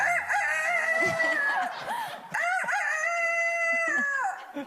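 A rooster crows loud and close, with two long drawn-out cock-a-doodle-doo calls separated by a brief pause and short clucking notes between them, and no talk.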